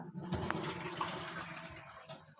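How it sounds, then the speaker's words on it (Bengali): Water runs from a tap while potatoes are washed in a home kitchen, a faint steady splashing gush lasting the whole moment, with a couple of soft knocks. "এখানে মেয়ে আলু ধুচ্ছে, বাঁধাকপির আলু"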